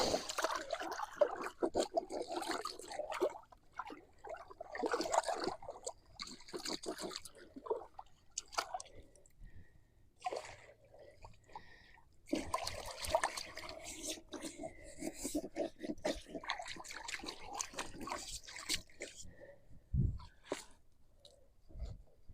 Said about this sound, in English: I got the bird's water out because I'm going to rinse it out